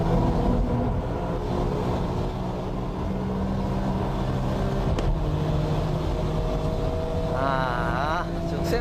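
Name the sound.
Porsche 996 Turbo and Nismo cars racing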